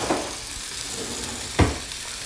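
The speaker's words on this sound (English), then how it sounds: "We're going to get a nice sear on what we can here." A rack of lamb sears in a pan with a steady, even sizzle, broken by a single louder thump or clatter partway through; no one speaks.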